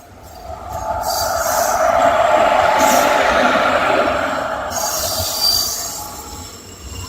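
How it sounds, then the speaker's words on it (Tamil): An express train hauled by a WAP4 electric locomotive rolls past nearby, its wheels squealing in a loud metallic screech that swells and then fades as the cars go by. "WAP4 இன்ஜின் தான் இதுவும்."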